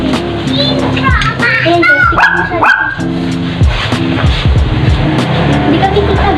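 A dog barks several times outdoors amid children talking and playing, with a passing engine hum in the background.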